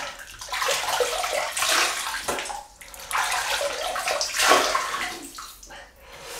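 Water splashes and sloshes from a sink as hands wet the face before a shave with a Gillette Tech double-edge razor, in repeated uneven scoops and splashes close by over several seconds, without speech.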